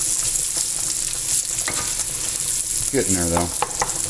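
Onions and bacon fry to crispness in a soup pot for wild leek soup, giving a steady close sizzle with stirring scrapes, while a voice briefly talks over it.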